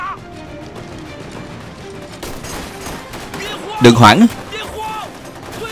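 Gunfire in a Chinese war drama about the resistance against Japan: one loud, sharp burst of shots cracks out over continuous background noise, with people talking nearby.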